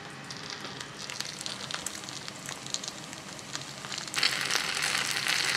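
Breaded oysters fry in a pan over high heat for a kaki fry rice bowl, a steady crackling sizzle with fine popping that jumps louder and denser partway through as the heat rises.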